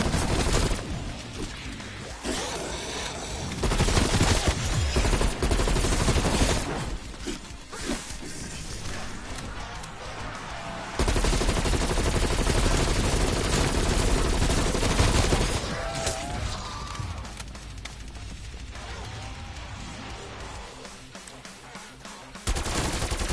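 Krig 6 assault rifle fire in Call of Duty Cold War, loud rapid automatic bursts in several long stretches with brief gaps, mixed with explosions and game effects, and a voice briefly heard among the shooting.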